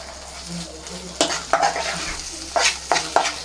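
Fish roe fry stirred in a pan over high flame: repeated scraping stir strokes and clinks against the pan over a steady close sizzle, with no talking.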